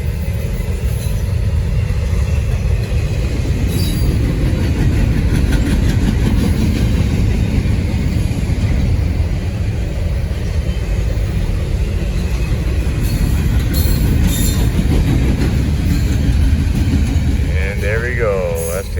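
Norfolk Southern freight train NS 281 rolls past nearby with a loud, steady rumble and clickety-clack of railcars. Brief talk appears near the end.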